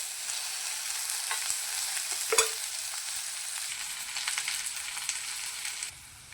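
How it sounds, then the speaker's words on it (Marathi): Chopped onion sizzles in hot oil with a constant crackling hiss and a few sharp stirring knocks, then fades quieter near the end. "बघा कांदा फ्राय होण्यासाठी थोडेसे तेल ओतून घेऊया."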